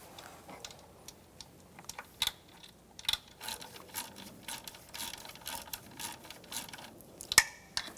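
A hand ratchet clicks in short irregular bursts while snugging nuts on the valve cover of a 2008-2013 BMW 328i xDrive, close and fairly faint, mixed with light tool handling.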